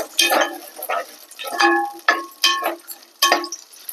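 Onions (shallots) dropped into hot oil for a Tamil fish curry, a few separate bursts of spitting sizzle and clinking between short quiet gaps, close and clear, with no talking.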